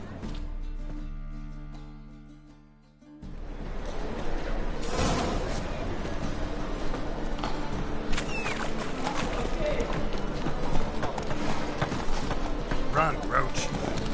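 A horse gallops in the video game The Witcher 3, its hoofbeats clattering in a steady driving rhythm under the game's soundscape after a brief voice at the start.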